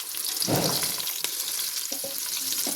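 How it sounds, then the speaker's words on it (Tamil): Onions and green chilies sauté in hot oil for chicken biryani, giving a close, steady sizzle with a brief burst of stirring and a few faint utensil knocks. "வெங்காயமும் பச்சை மிளகாவும் போட்டுக்கலாங்க"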